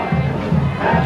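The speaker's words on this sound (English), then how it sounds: "Very sparse crowd here this evening." A sparse crowd murmurs and calls out in the stands at an evening high school football game, Norristown versus Abington, a loose, rising and falling wash of voices heard at a distance.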